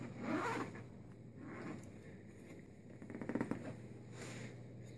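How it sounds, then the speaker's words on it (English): A Ziploc bag on an aircraft-approved oxygen concentrator is peeled open, giving soft, close plastic crinkling and a brief zipper-like ripping of the seal, quiet overall. "It's a Ziploc. So let's open it up."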